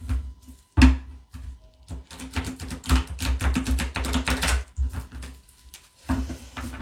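Tarot cards shuffled by hand, a run of soft papery riffles and slaps in quick bursts with brief pauses between, close and fairly quiet.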